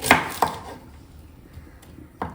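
A knife chops through pumpkin on a cutting board in a home kitchen: three sharp, separate thuds spaced unevenly, close and fairly quiet, with near silence between them.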